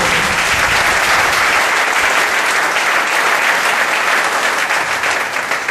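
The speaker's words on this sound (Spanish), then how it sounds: "Den un aplauso, Señor, en esta mañana." Loud, dense applause from a church congregation during a Sunday morning service, steady and sustained from start to finish with no pause.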